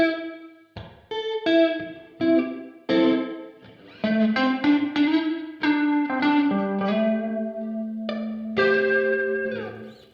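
Meris Mercury X modular reverb pedal with compression applied only to the reverb tank, processing a harmonic instrument into lush, sustained chorus-like tails; a string of plucked or keyed notes rings out continuously for ten seconds with no talk.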